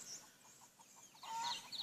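Faint, quick clucking from a rooster, a run of short soft calls close together, rising slightly louder near the end.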